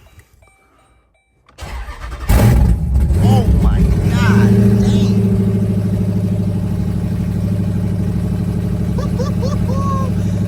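A Jeep SRT8 engine cranks and catches after a quiet moment, then settles into a loud, steady idle while a person exclaims briefly.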